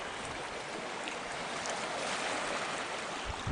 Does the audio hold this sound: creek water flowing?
yes